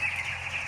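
Young broiler chicks chirp in a brief, continuous high twittering, close and moderately loud.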